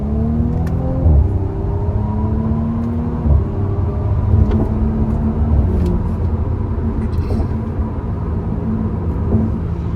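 A 2019 Audi S5 Sportback engine hums and revs steadily up close, with rising and falling tones as it accelerates and shifts, a smooth rather than harsh exhaust note.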